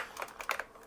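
Several keys tapped on an IBM PS/2 Model 85 keyboard, a quick cluster of close, crisp clicks with no voices.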